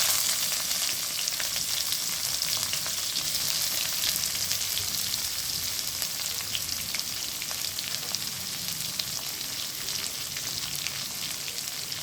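Chopped onion and garlic fry in oil with a continuous, even crackling sizzle and dense tiny pops that last the whole stretch, close by and steady, with no voices.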